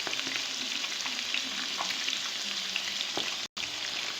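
Fish frying in oil in a kadhai for a masala fish fry, a steady close sizzle with small crackles and stirring sounds throughout, no talk.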